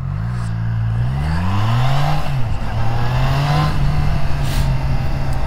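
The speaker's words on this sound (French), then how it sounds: "Vous êtes à 50, vous allez faire un petit freinage d'urgence." Triumph Trident 660 triple-cylinder motorcycle, a 2021 A2 model, braking hard from 50 km/h: steady engine drone that rises, then drops sharply as the bike slows, with rushing wind noise throughout and no talk.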